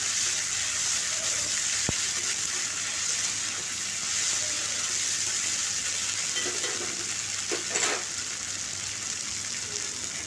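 Green chili with a cumin and ginger paste sautéing in a hot pan for a kundri curry, giving a steady, even sizzle and hiss throughout with no talking.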